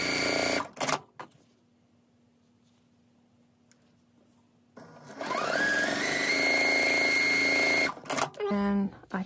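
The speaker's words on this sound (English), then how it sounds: "So I'm sewing this round on" A sewing machine stitches quilt pieces for an attic window quilt block in short whirring runs, first a brief burst, then a quiet pause, then a long steady run of rapid needle chatter before it stops and a few small clicks follow.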